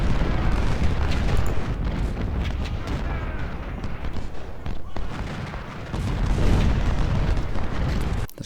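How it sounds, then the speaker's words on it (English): Artillery explosive shells land in Ultimate General: Civil War, a continuous rumbling barrage of booms and blasts with dense battle noise throughout and a louder burst near the end. "you can see the explosive shot landing"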